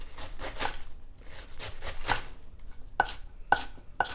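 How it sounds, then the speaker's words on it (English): Fresh turmeric root chopped with a knife on a board, a run of crisp irregular blade strikes, several sharper taps near the end, close and clear with no talking. "And now I'm gonna chop up some turmeric."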